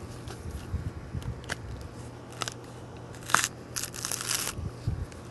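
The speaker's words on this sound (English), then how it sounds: "So the shell is coming apart." Green coconut husk prised and peeled apart on a pickaxe, giving a run of close crunching, cracking and tearing sounds in irregular bursts, with one sharp snap near the middle and no talk.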